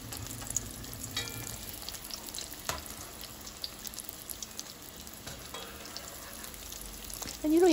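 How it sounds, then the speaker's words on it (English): Cassava fish cakes fry in a pan with a fairly faint, steady sizzle and light crackle, a few soft clicks and scrapes scattered through, and a louder burst of noise right at the end; no talking. "So we're going to fry this for like about a minute on each side, or a minute and a half."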